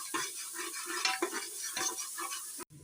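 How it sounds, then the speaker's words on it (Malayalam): Onions sautéed with salt in a pan are stirred in quick scraping strokes, soft rhythmic scrapes and light sizzle repeating several times, close and fairly quiet with no voices. "സവാള വഴണ്ട് വരാനായിട്ട് നമ്മൾ ഇച്ചിരി ഉപ്പിട്ട് കൊടുക്കും"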